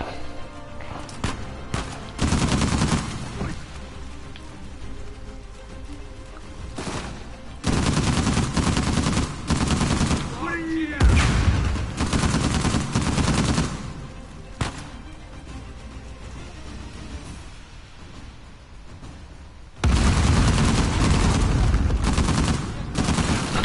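Bursts of gunfire in Uncharted 4, with loud volleys and sharp shots arriving in clusters separated by quieter gaps, the heaviest barrage near the end.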